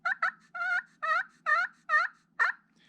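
Friction turkey call worked with a striker across a scratched surface, producing a series of about seven raspy yelps in a steady rhythm, close and clear with no talk over them.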